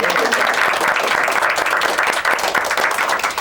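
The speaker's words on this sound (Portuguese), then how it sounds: "Palmas pra vocês." Audience applause for a visiting school group on a Brazilian TV studio programme, dense and steady clapping throughout, fairly loud and close, with no voices over it.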